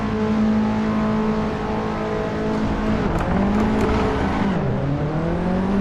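An Alfa Romeo Giulietta race car in a racing video game holds a loud, steady engine drone, with the pitch dipping and climbing again through gear changes, no voices.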